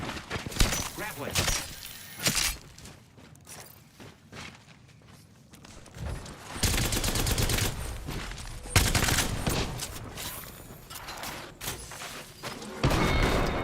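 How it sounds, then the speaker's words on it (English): Video game gunfire with bursts of shots and breaking, shattering sounds, alongside footsteps and movement, loud and uneven over about fourteen seconds, with a player talking over parts of it. "Frag out. I am taking fire."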